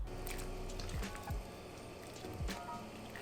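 Noodles stirred with tongs or chopsticks in a pot of boiling water, a steady wet bubbling hiss with a few soft clacks and sloshing swishes, close and continuous with no talking.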